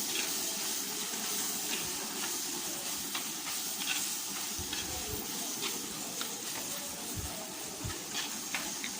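Masala powder is stirred into egg roast gravy frying in oil, giving a steady hiss and sizzle with occasional soft scrapes, close and continuous without speech.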